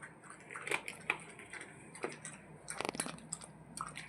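A pet dog laps water from a bowl set on a bed indoors, giving soft irregular wet licks and splashy bursts at low volume.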